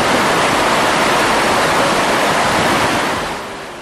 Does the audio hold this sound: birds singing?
no